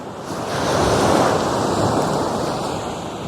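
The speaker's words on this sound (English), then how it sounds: "the swells are low." Low ocean swells roll steadily onto a shoreline with seaweed, a continuous rushing surf close by, swelling slightly and then easing, mixed with wind buffeting the microphone.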